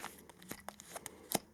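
Wrapping paper tearing off a Christmas present, a string of short rips and crinkles with a sharp, louder tear near the end, close and fairly quiet with no talk.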